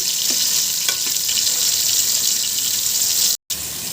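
Spices with asafoetida fry in hot oil for a fish curry, making a steady, bright, close sizzle that hisses continuously, with a few faint stirring scrapes and a brief cut near the end.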